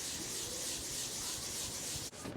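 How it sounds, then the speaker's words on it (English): Steady, close rasping of a hand sanding pad rubbed back and forth over the painted body of a C5 Corvette, ending with a brief scrape. "that's just what we've done with a hand sanding pad"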